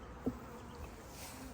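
Honey bees buzz faintly during a hive inspection, a soft, steady drone with a brief thump near the start and no voices.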